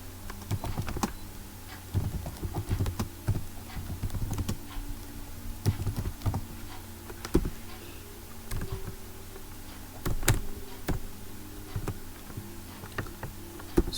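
Code being typed on a computer keyboard: irregular bursts of close, crisp key clicks and clacks with short pauses between runs, heard alone without speech.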